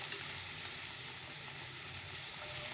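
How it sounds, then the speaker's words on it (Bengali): Potatoes frying in a pan give a faint, steady sizzle that crackles softly throughout, with no talking. "আলু একটু ভেজে নিলাম"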